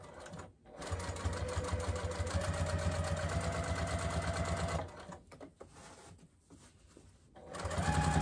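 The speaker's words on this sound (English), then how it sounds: "So just go slow and make sure you're not getting skip stitches or breaking a needle or anything." A sewing machine stitches through thick fabric layers at a steady, close, buzzing pace, stops briefly with a few soft handling noises, then starts running again.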